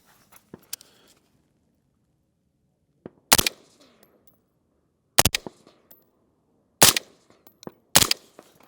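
Sharp 5.56 rifle shots crack out at an outdoor shooting class, a few isolated loud reports spaced seconds apart with echoing tails and faint shuffling between them.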